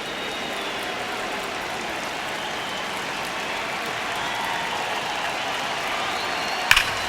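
Crowd cheering in a baseball stadium during a Cardinals vs. Arizona Diamondbacks game, a steady, dense roar of many voices and clapping that holds evenly throughout, with a sharp brief burst near the end.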